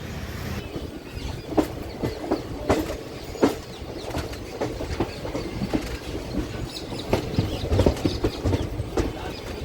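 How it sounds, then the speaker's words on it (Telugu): Mysuru–Kakinada special passenger train rolling slowly into Guntur railway station, with a continuous rumble and irregular rhythmic wheel clacks and knocks at moderate level, no talk. "మన ట్రైన్ వచ్చిందండి గుంటూరు రైల్వే స్టేషన్కి"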